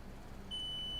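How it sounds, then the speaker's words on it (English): A clear, sustained electronic beep sounds from a tester checking a fuse on a MacBook repair bench. It starts halfway through, steady and tonal over a faint background hiss. "Son of a gun, it beeped."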